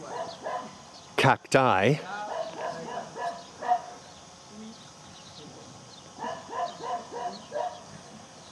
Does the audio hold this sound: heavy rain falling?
no